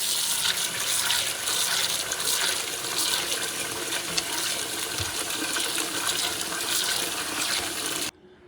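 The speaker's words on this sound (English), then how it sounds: "And what I'm going to do is I'm going to put some water," Room-temperature water gushes steadily into a pot of dried beans for about eight seconds, a loud continuous rushing pour that cuts off abruptly at the end.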